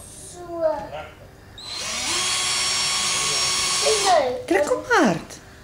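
A hand-held electric drill boring holes runs at a steady loud whine for about two seconds, with people talking before and after it.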